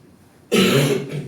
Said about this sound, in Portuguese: Tá tosse bonita.